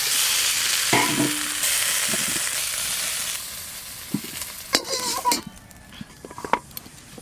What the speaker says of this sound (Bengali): এবার কুমড়ো আর বটবটি একসঙ্গে ভেজে নেব